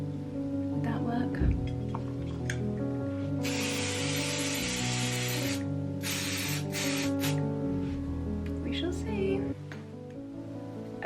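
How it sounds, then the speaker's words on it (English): A spray is misted over a flower arrangement with alliums at home, in two hissing bursts of a few seconds each, the first longer, heard over soft background music. "so I might just spray it"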